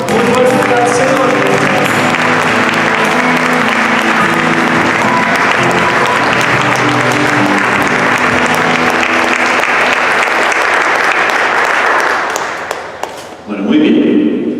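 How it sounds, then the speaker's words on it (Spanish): A church congregation breaks into loud, sustained applause, dense clapping mixed with cheering that fills the space for about thirteen seconds before dropping off abruptly. "Dale un aplauso muy fuerte al Señor."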